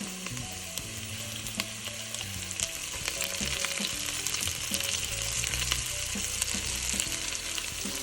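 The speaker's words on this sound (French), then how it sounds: "Et je le fais revenir pendant environ 5 minutes en mélangeant bien." Red cabbage and onion sauté in fat while being stirred, a loud, continuous close sizzle with occasional utensil scrapes and low kitchen hum beneath.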